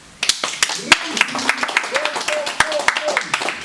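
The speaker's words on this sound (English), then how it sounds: "Round of applause for Jahlani, please" A few people clapping in a small room at the close of a podcast episode, sparse distinct claps with an irregular rhythm, close by, while voices talk and laugh over them.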